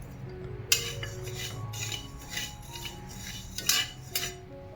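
Cumin seeds dry-roast in a pan for chakli flour, stirred with a metal utensil that scrapes and clinks against the pan in irregular bursts over a low background hum.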